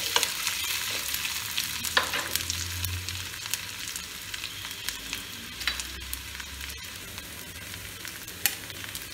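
Spices and fried onion paste sizzling in a pan for a chicken curry with raw mango, a steady close hiss broken by occasional scrapes and clicks of stirring, with no voices.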